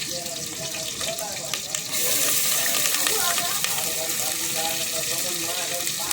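Chopped onions fry in hot oil in a home kitchen pan, giving a continuous crackling sizzle that grows louder and denser after a couple of seconds, with a voice faintly in the background.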